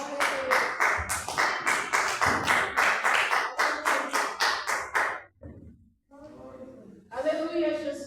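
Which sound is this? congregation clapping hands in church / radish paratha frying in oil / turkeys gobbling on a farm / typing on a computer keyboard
congregation clapping hands in church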